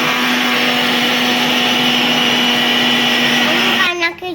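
A kitchen blender grinds grated coconut with peanut powder, a loud steady whir running at full power for about four seconds before cutting off abruptly.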